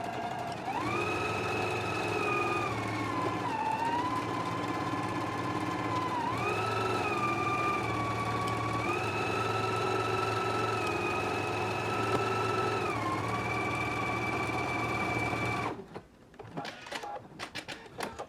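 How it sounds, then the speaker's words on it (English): Sewing machine stitching a seam at a 5/8 inch allowance on an easy jumper dress, running as a steady close whir with small shifts in speed for about fifteen seconds, then stopping and leaving a few soft handling clicks. "I'm going to take it to the machine. I'm going to stitch it at a 5/8 of an inch seam allowance"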